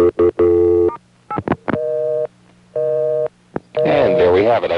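A telephone rings on a 1A ESS Centrex line from the early 1980s: loud, buzzy electronic ring tones come in short repeating bursts, broken by clicks, and a voice starts in near the end.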